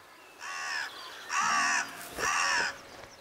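Crows near their nest give three loud, harsh caws in steady succession, close by and clear against a quiet background.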